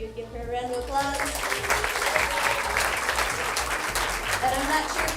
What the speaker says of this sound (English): if you would give her a round of applause.